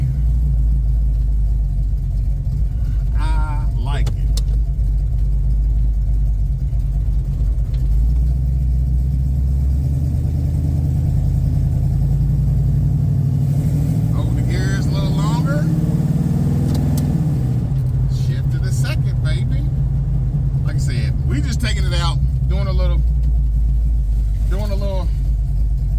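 Chevrolet Malibu G-body with a 383 stroker V8 driving, a deep steady rumble close up throughout with a swell of revs midway, while people talk over it.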